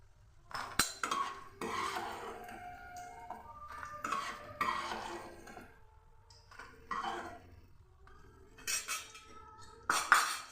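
Fried eggplant pieces lifted out of a frying pan with a metal spatula, giving intermittent scrapes and clinks against the pan over ten seconds, close by with no voices.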